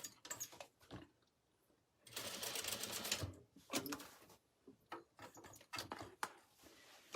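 A sewing machine stitches a canvas tote bag in short bursts, with one longer run of rapid whirring stitches, separated by quieter gaps filled with clicks and handling noises.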